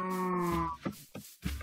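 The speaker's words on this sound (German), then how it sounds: "Hier sind so viele Kühe." Cows mooing in the Minecraft video game, several low drawn-out moos in quick succession, close and loud with no talking.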